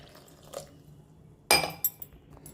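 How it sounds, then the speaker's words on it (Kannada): Water poured from a glass onto grains soaking in a kitchen vessel, a sudden splashing pour followed by a couple of short clinks and drips over quiet room noise. "ನೀರು ಹಾಕ್ತೀನಿ ನೋಡಿ."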